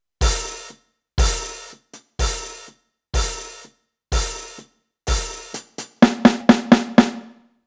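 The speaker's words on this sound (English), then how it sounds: "So that means at the end of the hi-hat and kick drum section, it's going to sound a little like this." An electronic dance music beat built from kick drum and hi-hat, with evenly spaced hits that tighten into a quick run of rapid kicks at the end, clean and isolated with no voices.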